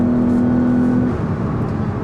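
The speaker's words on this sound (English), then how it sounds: "Now we accelerate." A 2018 Lexus RX450h F-Sport AWD hybrid accelerates, its engine hum building into a steady, smooth whir with road noise, heard up close from the cabin.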